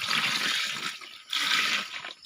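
Seawater carried in a container is poured out in two bursts, a steady rushing splash that stops briefly midway and then resumes, close and fairly loud with no talking over it.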